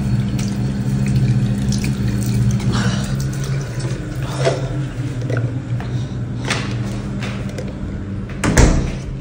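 Water running in a bathroom during a household water shortage in Kuwait, a steady wash of flow with faint clunks and a sharper knock near the end, no talking.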